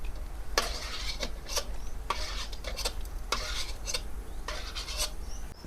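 Fried coconut-semolina pieces lifted out of hot ghee, with repeated scraping and rubbing of a spoon against the pan in short bursts over a faint low sizzle, close up.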